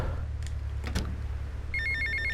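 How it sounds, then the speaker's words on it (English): A telephone rings in the GTA: Vice City video game, a short electronic trill that starts near the end after a couple of soft clicks over low background hum. "Oh, and a phone call again."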